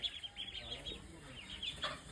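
Guinea fowl newly brought to a farm give short, repeated high calls, fairly faint and scattered across the moment, with no talking over them.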